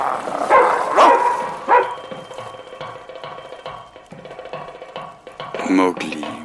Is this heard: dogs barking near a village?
yes